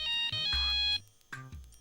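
A mobile phone ringtone plays nearby as a bright, tonal electronic melody of a few short phrases, loud and clear with no talking.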